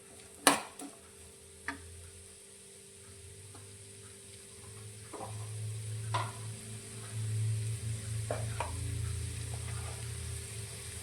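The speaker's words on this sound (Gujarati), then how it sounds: "અત્યારે આપણે કોબીજ સમારેલી લીધી છે 1 વાટકી જેટલી, તે અંદર લઈ લઈશું. બધી જ વસ્તુને આપણે સારી રીતે સાંતળીશું." Chopped cabbage sautéing in a pan for Manchurian gives a soft, steady sizzle that builds gradually, with scattered clinks and taps of a utensil against the pan.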